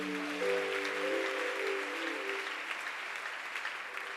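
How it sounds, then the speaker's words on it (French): A church congregation breaks into steady, sustained applause, a broad wash of clapping that fills the room, with held musical notes fading out underneath at the start. "Donne un amen et acclame le Seigneur"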